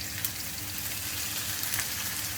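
Onion frying in a pan for homemade burgers, a steady soft sizzle with faint crackles throughout, fairly close and alone without talk.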